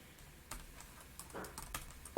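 Someone types a search query on a smartphone keyboard, giving a short run of light, irregular taps for a couple of seconds, close and clear with no talking.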